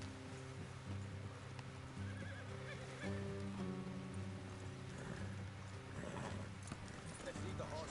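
Horses trot with steady clip-clop hoofbeats and occasional whinnies in a video game, moving along a road off into the countryside, continuous and moderately close under game music and ambient sound.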